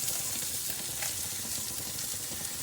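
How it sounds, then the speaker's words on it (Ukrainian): Eggs frying in melted butter in a pan for a Ukrainian simit-style fried egg dish, a loud, dense, continuous close-up sizzle with no breaks. "На розтоплене масло вбиваємо яйця"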